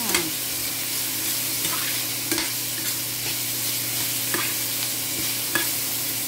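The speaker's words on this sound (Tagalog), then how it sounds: "Ganyan lang ang ating pag-igisa ng gulay." Vegetables sautéing in a pan, a continuous close sizzle with intermittent scraping stirs of a utensil against the pan, no talking.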